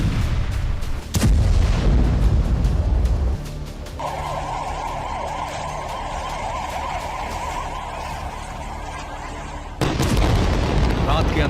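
Heavy bombardment with repeated blasts and artillery fire: loud booming impacts at the start and again near the end, with a sustained rumbling, crackling roar between, no speech.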